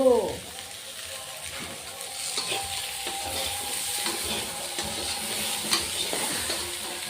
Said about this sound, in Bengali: আমি আগে কচুগুলি ভেজে নিব